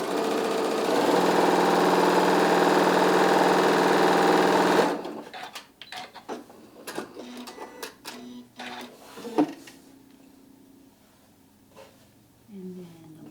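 A sewing machine runs a steady, loud stitching burst through layered fan template pieces for about five seconds, then stops, leaving quieter handling clicks and rustles while someone talks.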